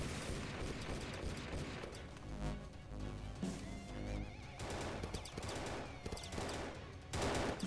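Bursts of automatic rifle fire crackle in quick rattling volleys in the video game DEEEER Simulator, loud and dense, mixed with game music and effects in a busy, cluttered scene.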